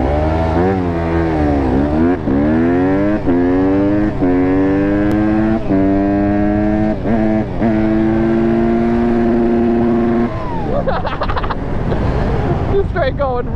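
Dirt bike engines, a 400 and a 150, rev up hard in repeated rising pulls during an off-road race, sitting at a steady high whine against the rev limiter before cutting off. Loud, close and continuous.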